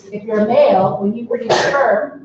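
A sneeze bursts out around the middle of a classroom lecture on genetics, sharp and fairly close, with the lecturer's speech running before and after it.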